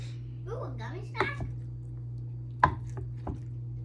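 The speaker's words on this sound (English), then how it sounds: "we're going to make nice chunks about in half an inch cube" A knife chops tofu into half-inch cubes on a board with a few sharp, separate knocks, one of them loud, under and between a person talking nearby.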